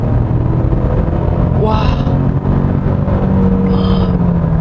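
A 2023 Genesis G70 facelift in sport mode accelerating hard, its engine droning loudly and steadily with a rising tone, close and continuous, while a voice briefly exclaims over it.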